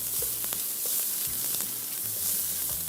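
Chopped onion and garlic frying in hot oil in a pan, a steady dense sizzle throughout with a few small pops and faint scrapes, close and continuous with no talking.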